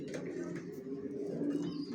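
Racing pigeons of a Johnson long-distance line coo softly and repeatedly in a loft, their low murmuring calls faint and steady with a bit of background chatter.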